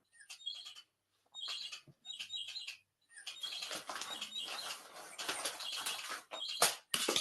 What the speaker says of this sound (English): Fill your normal and pleasant silence with incessant chirping.